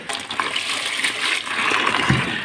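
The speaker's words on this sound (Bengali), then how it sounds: "এটা এখন ভালো করে পানি দিব" Water poured by hand into a cattle feed mash prepared for fattening cows, a steady close splashing and gushing that runs the whole time with a brief heavier splash near the end, no talking.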